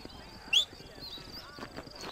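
Horse hooves clip-clop in Red Dead Redemption, a brief cluster of faint hoofbeats approaching beneath game ambience, with a short whinny-like squeal near the start.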